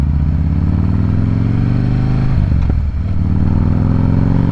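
Harley-Davidson CVO 110ci V-twin motorcycle fitted with S&S 551 cams, running steadily near and loud with a lumpy low rumble, a brief throttle blip and clatter midway, then settling back to a continuous idle-like throb.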